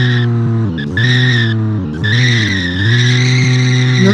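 A modded lawnmower in the BeamNG Drive video game runs at high revs with a loud, close engine whine, and its tires give sustained squealing skids as it drifts.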